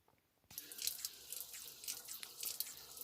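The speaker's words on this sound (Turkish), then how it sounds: "Çeşmeyi açıyorum" A kitchen tap turned on to run water for a pet budgie's shower: near-silence, then a sudden bright splashing rush of running water that stays continuous and close.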